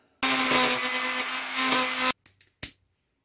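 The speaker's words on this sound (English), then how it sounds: "with a Dremel so that I can take it off" A Dremel rotary tool cuts into a metal mod part with a loud, steady high whine for about two seconds, then stops abruptly, followed by a few short bursts and a final sharp noise.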